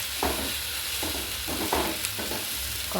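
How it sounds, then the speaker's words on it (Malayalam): Sliced onions fry and wilt in a pan for a chicken curry, giving a steady close sizzle broken by several short scraping stirs of a spatula, with no voices. "സവാള വാടി വരുന്നുണ്ട്"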